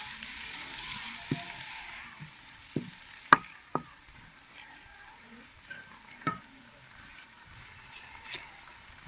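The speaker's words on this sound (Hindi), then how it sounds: "अभी हरा लहसुन डालेंगे, पहले इसको भून लेंगे, अच्छी तरह ब्राउन कर लेंगे।" Green garlic fries until brown in a pan, a faint hiss of sizzling oil broken by sharp, scattered clinks of a utensil against the pan.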